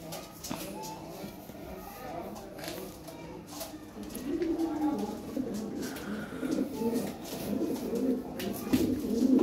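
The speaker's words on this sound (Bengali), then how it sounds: "বিশাল সাইজের কবুতর" Large Lahore siraji fancy pigeons coo nearby in low, rolling, repeated calls that grow fuller toward the end, with faint shuffling and someone talking over them.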